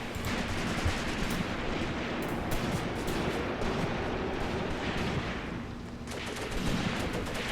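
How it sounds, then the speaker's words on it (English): Machine gun fire and battle noise in the World War II tactics game Graviteam Tactics: Mius Front, with dense, crackling bursts of gunfire over a constant rumbling backdrop, fairly faint and distant. "Look at that machine gun. It's not the most effective fire in the world, but it's something."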